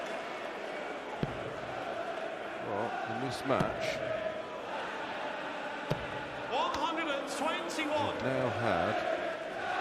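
Darts crowd at the PDC World Darts Championship rhythmically chanting a player's name, a broad roar rising and falling in waves behind a commentator talking over it, with a few sharp thuds.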